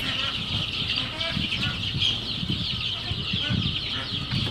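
Local chickens and chicks on a farm near Guwahati peep continuously in a high, busy chorus, with low murmuring talk and rustling underneath.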